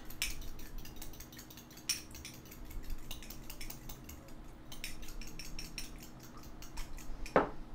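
Eggs are beaten for an egg wash, producing quick, light clinks and taps of a utensil against a bowl in irregular bursts, with some louder knocks near the end.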